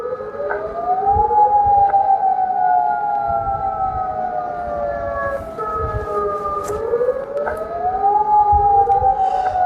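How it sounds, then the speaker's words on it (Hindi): An air raid siren sounds in Jordan, a loud wailing tone that rises and falls in slow sweeps, with overlapping pitches and steady background noise beneath. "यहां पर जॉर्डन में बताया जा रहा है कि सायरन एक्टिवेट कर दी गई है"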